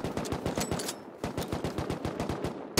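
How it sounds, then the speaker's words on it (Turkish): An AK rifle in the game Rust fires a rapid, steady burst of close, punchy automatic shots with a brief pause near the start. "Evet AK50'yi sıkıyorum, gördüm."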